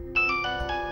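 A phone rings with a bright electronic ringtone, a clear melodic tone pattern heard close and alone over a quiet indoor room.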